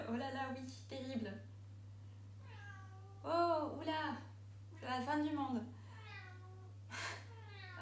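A cat meowing loudly to be let in, giving drawn-out, wavering, whining cries close by, repeated a few times. Someone speaks in French at the start, over a steady low hum.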